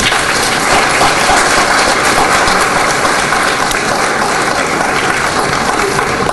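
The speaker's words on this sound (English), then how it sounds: "Please join me in giving them a round of applause." A dense, steady wash of audience applause for education candidates at a university pinning ceremony, loud and continuous with no breaks or voices for several seconds.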